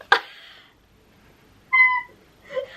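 A house cat meowing indoors, two clear distinct meows with a short noisy sound at the start, close and loud with silence between.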